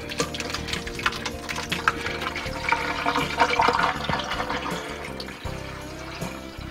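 Liquid from salted zucchini relish pours and gurgles as it drains through a strainer, a steady splashing water flow with clinks and knocks, loud and close, easing off near the end.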